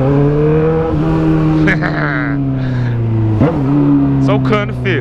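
Honda Hornet motorcycle with a straight pipe exhaust revving hard, a loud, rising and falling engine drone with shifting tones, close by, with someone talking over it.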